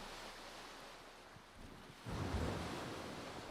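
Ocean waves around a sailing ship in the game Skull and Bones, a soft wash of water and wind that swells into a louder surge partway through, with no voices.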